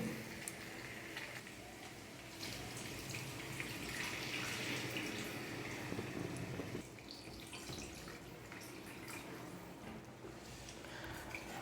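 Water, two large glasses, pours steadily into a pot of chicken and rice for several seconds, a continuous rushing splash that shifts slightly in tone as the pour goes on.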